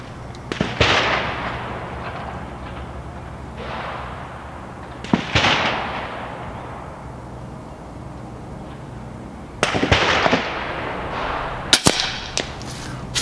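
Shotgun slugs fired from an ATI Nova Liberty on a 100-yard range: loud, sharp reports, one at a time and several seconds apart, each trailing off in a short echo, with a quick double crack near the end.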